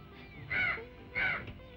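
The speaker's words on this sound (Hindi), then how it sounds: "तू जानता है कौवा क्यों बोल रहा है?" A crow caws twice in quick succession, clear and moderately close, each call short and harsh, with a faint background and no talk.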